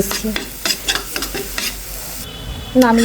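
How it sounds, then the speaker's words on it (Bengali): A spatula stirs bottle gourd and chickpea bhorta with chopped coriander leaves in a hot pan, with repeated close scraping strokes in an uneven rhythm over a steady low sizzle, ending in a brief tonal clink. "ধনে পাতাটা দিয়ে নেড়ে চেড়ে মিশিয়ে নিচ্ছি।"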